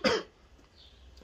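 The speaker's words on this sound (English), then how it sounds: "I still got a little cough" A single short, loud cough from a person who is still a little sick, lasting a fraction of a second, followed by quiet room tone.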